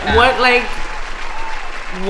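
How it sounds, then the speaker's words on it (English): Brief, moderate applause from a studio audience on a talk show, starting just after a spoken line and continuing under light chatter before a voice resumes. "let's give you some applause for that"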